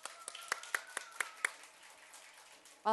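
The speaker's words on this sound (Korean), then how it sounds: "환영합니다. 박수." Children clap in welcome during an elementary church service, a handful of sharp, fairly quiet claps in an uneven rhythm lasting about a second and a half, then a brief voice at the end.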